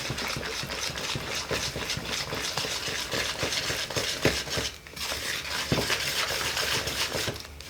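A whisk beats crepe batter and milk in a bowl, rapid rhythmic metallic scraping and clinking against the bowl sides, steady and close with a brief pause partway through.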